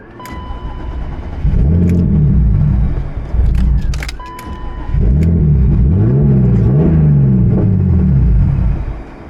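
A turbocharged BMW E36 engine cranks and catches, revving unevenly through two loud surges before stumbling and dying, heard up close with no talking.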